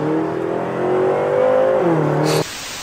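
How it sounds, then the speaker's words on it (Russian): A BMW car engine revs loudly and close, climbing steadily in pitch, dropping briefly, then cutting off sharply near the end. "Просто послушайте звук, ребята, этой тачки."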